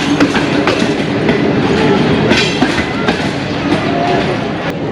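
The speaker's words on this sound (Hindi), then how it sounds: "कराची तो सियालकोट जान वाली 9 आप अल्लामा इकबाल एक्सप्रेस जाती पई है कोट लखपत रेलवे स्टेशन तो लाहौर जंक्शन" The Allama Iqbal Express, bound from Karachi to Sialkot, rolls past Kot Lakhpat railway station near Lahore, a loud steady rumble of wagons with rhythmic wheel clicks and clanks throughout.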